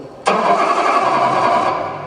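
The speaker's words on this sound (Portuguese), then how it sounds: "Tire a chave e ligue o motor." Car engine starting in a driving simulator: an abrupt crank and catch, then a steady, loud mid-pitched idle that holds and slowly eases, heard close with no voices.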